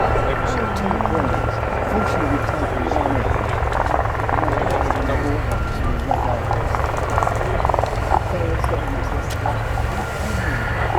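Gazelle helicopters of the 2024 Gazelle Squadron flying in formation at the RAF Cosford Airshow, giving a steady, continuous rotor and engine drone throughout, with a commentator talking over it.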